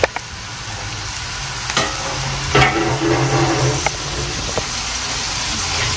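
Liver frying for chop suey in a hot pan, a steady loud sizzle with occasional scrapes and clatters as it is stirred, close up and with no talking.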